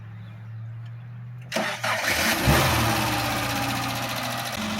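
A Subaru engine, just back from repairs, cranks briefly and fires, then settles into a loud, steady idle nearby that keeps running to the end.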